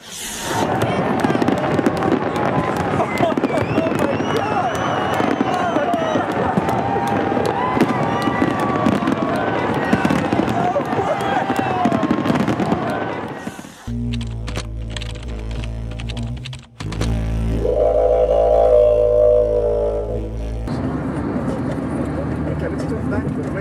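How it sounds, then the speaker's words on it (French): New Year's fireworks over an Australian city: steady crackling bursts and pops under a continuous voice, giving way partway through to a few louder, deeper booms. "je serai aux premières loges pour les feux d'artifice du jour de l'an"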